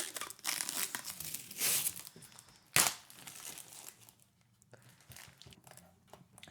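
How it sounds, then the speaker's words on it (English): Protective plastic film is peeled off a clear CoolGeek M1 CD display frame, giving soft crinkling and rustling with one sharp tearing rip partway through, close by and fairly quiet, with no voices. "We'll just take off the plastic."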